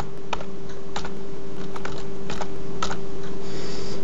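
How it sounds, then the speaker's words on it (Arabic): Password being typed on a computer keyboard: scattered individual key clicks at an irregular pace over a steady low electrical hum, close and moderately clear, with no talking. "اضغط آه، اكتب كلمة السر بعد كتابة كلمة السر"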